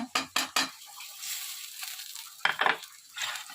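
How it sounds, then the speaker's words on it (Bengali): Eggplant sizzles and crackles in hot oil, a steady frying hiss broken by a few sharp clattering knocks of a utensil against the pan. "এই যে বেগুন ভাজাগুলো, এগুলো ভাজবো"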